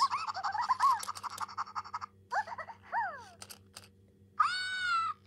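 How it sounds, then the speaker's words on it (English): A toy cat lets out a string of electronic meows and mewling cries, several short calls at first, then a longer drawn-out meow near the end, fairly close and clear with pauses between. "Ah, Kitty cried."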